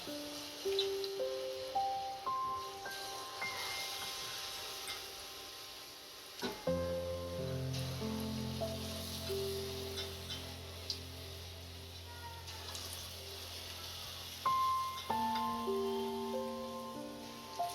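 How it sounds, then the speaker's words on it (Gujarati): Sweet potato vadas deep-frying in hot oil give a steady, close hiss and crackle that runs the whole time beneath louder background music with a shifting melody. "હવે આમાં વડા નાખી અને તળી લઈશું."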